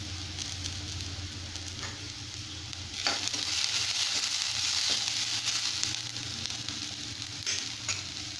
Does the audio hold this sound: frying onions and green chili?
yes